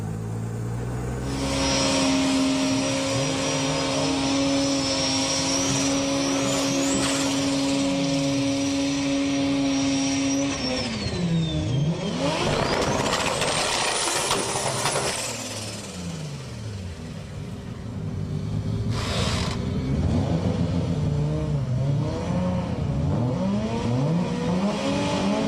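Drag racing car at Sendai Highland making a run with the boost turned up, a loud engine that climbs through rising pitch sweeps, drops off, then roars again, close and continuous with no talk.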